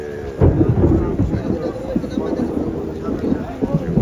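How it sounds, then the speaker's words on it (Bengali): Rain falls at an open-air cattle market, heard as a steady wash of noise from under a shelter, mixed with a low rumble and nearby voices talking. "আর কিন্তু বৃষ্টি পড়তেছে"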